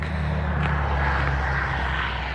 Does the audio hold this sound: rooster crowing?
no